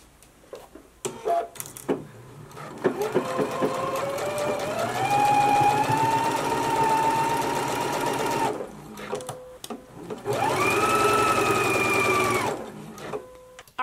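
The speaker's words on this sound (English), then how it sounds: "let's go to the machine now and go ahead and do our stitching" Up close, a sewing machine runs a seam on an unlined jacket in two long, steady bursts with a rising motor whine, with brief clicks and handling in the gaps.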